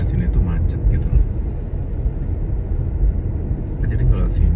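Congested city traffic on a road in Edmonton, Canada: a steady, dense rumble of car engines fills the whole stretch at close range, with no single vehicle standing out.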